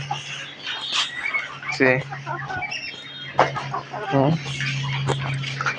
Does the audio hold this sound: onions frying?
no